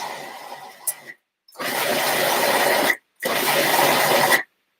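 An electric blender whizzes up an egg bite mixture for Italian egg bites in two loud, steady bursts with brief silent pauses between them, close up, after a quieter stretch of handling noise.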